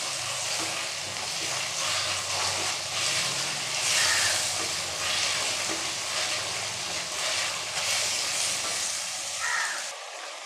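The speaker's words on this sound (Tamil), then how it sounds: "தக்காளியை சேர்த்து தக்காளியை நல்லா வதக்கி வச்சுக்கலாம்" Tomatoes sauté in a pan for a vegetable gravy, giving a steady loud sizzle and hiss with occasional scraping stirs of a utensil throughout, and no voices over it.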